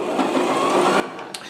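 A sewing machine stitches a pleat into Ankara fabric for an auto gele, running steadily with a dense mechanical whir for about a second before stopping, leaving a few faint clicks.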